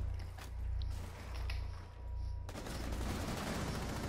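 Gunfire in Rainbow Six Siege played on PS4 during a ranked bomb match, with continuous bursts under a steady game hum and a denser, harsher rattle in the second half.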